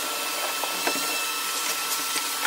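A vacuum cleaner sucks cobwebs, dust and dirt from basement rim joists, a steady close whine with brief scraping bumps of the nozzle against wood throughout.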